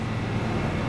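A bus engine in a Bangladesh-map driving simulator game on the road to Khagrachari drones steadily in a low, continuous rumble for the whole moment, with no pauses.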